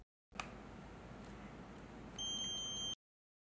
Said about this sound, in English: We can test it with our continuity mode.